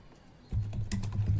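Quick keystrokes on a computer keyboard, typed into a Windows 11 search box on a PC, close and crisp, a short burst of irregular clicks.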